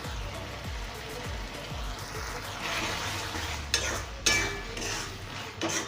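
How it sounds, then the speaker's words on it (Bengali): Salt is stirred into frying spices in a cooking pot for a potato and pointed gourd dish, with rhythmic scraping strokes of a spoon against the metal, soft sizzling underneath, and a couple of sharper knocks near the end. "নুনটা ভালো করে মিশিয়ে"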